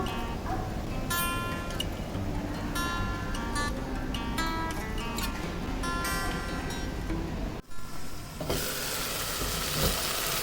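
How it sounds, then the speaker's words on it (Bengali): Masala sautéing in oil in a pan makes a loud, dense sizzle that fills the whole clip, with rhythmic stirring clicks over a steady bed of noise, a brief dip near the end, then a brighter hissing surge. "তেলটা একদম উপরে চলে আসছে, এটা কষানো হয়ে গেছে ভালো মতো।"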